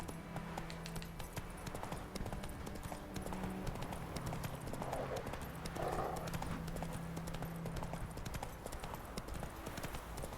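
Hooves of Roach, a horse in the video game The Witcher 3, clip-clop in a steady trot with a brief whinny, over continuous game music and ambience.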